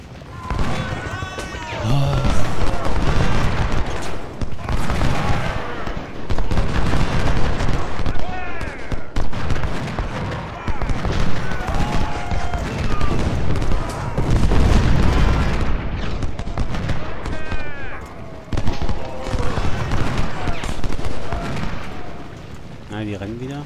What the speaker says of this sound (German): jetzt kommen die Kanonen von dort